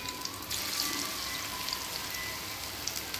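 Shrimp-head fritters in thin batter crackle and sizzle steadily in hot oil, a dense close-up frying hiss with scattered pops and no talking.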